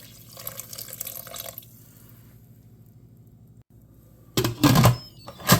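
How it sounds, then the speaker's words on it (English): Water splashes and gurgles into a pressure cooker pot over carrots in a short burst near the end, after a quieter stretch of faint dripping and kitchen background. "we're just going to pour in some water to cover"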